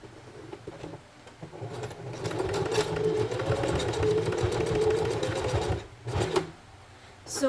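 A sewing machine runs back-and-forth stitching on lace for a bralette, a steady close whirring hum in bursts with brief pauses and restarts near the end.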